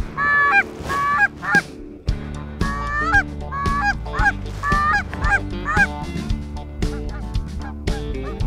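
Geese honk repeatedly during a late-season goose hunt in Idaho, a loud, close flock calling in overlapping bursts with some deeper thumps underneath and no talk.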